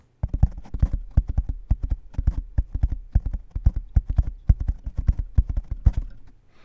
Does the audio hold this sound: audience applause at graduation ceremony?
no